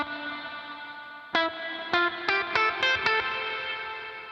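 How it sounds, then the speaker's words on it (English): Electric guitar chords struck several times with a reverb tail and short early echoes, ringing out alone at moderate volume. "You definitely hear some like initial reflections on the left and right."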